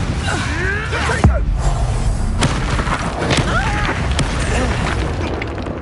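Confringo fire spell explosions in the video game Hogwarts Legacy, booming impacts and thuds amid busy game effects, with a voice talking over the action.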